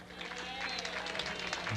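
A bowling audience gives brief applause to the scorekeeper at a candlepin bowling match, soft scattered clapping that swells slightly, with a commentator talking over it.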